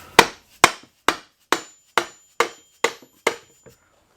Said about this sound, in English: I might break out my brass hammer just because